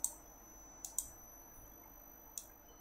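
A computer mouse clicks a save button in a quiet room, a few soft isolated clicks spread across a few seconds, close and faint.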